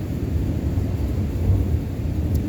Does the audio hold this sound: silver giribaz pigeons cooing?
no